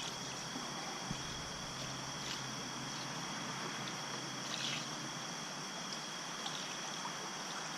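Apple pie moonshine being poured in gradually while stirred, a soft steady trickle of liquid with faint splashes, continuous and fairly quiet throughout.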